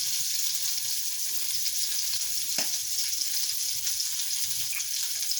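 Constant close sizzling and crackling of bacon-wrapped hot dogs frying in a pan, steady throughout with a few small pops and no voices.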